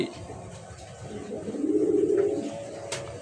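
Racing pigeon cooing in a low, rolling burst near the middle, fairly close, over a soft busy loft background with a faint bird chirp near the end.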